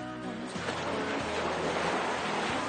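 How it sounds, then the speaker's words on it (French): Ocean waves roll and break in a broad, rushing wash of surf with a wind-blown edge, building after a brief lull and staying loud with no voices. "le bruit des vagues."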